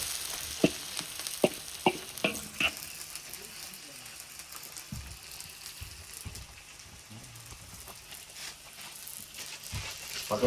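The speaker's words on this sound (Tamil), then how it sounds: "கொஞ்சம் பச்சை மிளகாய் கூட போடுவோம் நறுக்கப்பட்ட பச்சை மிளகாயை" Chopped green chillies fry in a pan with a continuous crackling sizzle, and a few sharp clacks of stirring near the start.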